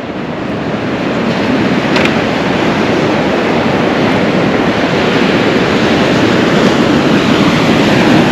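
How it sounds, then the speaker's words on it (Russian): Sea waves wash steadily onto the beach at Lazarevskoye, Sochi, on a breezy day, a continuous loud surf roar mixed with wind buffeting the microphone and no talking. "Вот такие волны."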